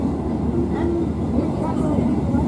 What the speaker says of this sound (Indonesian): keretanya belok loh